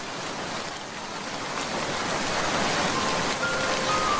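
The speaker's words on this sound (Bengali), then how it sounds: "এখন তো ঝড় বৃষ্টি হচ্ছে।" Stormy rain pours down in a steady, dense hiss that swells slightly louder over a few seconds, with no voices.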